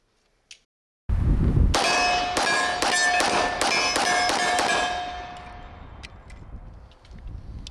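A Springfield Armory Mil-Spec 1911 pistol fires a rapid string of roughly seven to eight loud shots. Metallic ringing lingers between the reports and fades after the last one.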